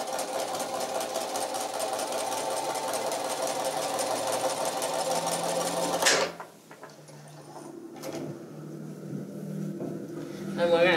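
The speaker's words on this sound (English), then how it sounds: "hold that down with your stiletto and sew right over the top" A sewing machine stitching across a quilt seam on a bridal bouquet border, running in a loud steady whir for about six seconds and then stopping, followed by quieter handling noises and a person talking.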